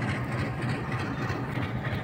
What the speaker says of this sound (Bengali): এটা ইঞ্জিন সাইড ডিজেল চালিত আর কি।